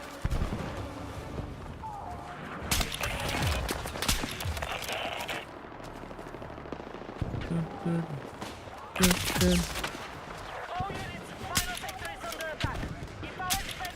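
SV98 sniper rifle fire in Battlefield 6 on the Sobek City map, a few sharp, spaced shots and bursts amid busy battle noise, with a voice talking over much of it.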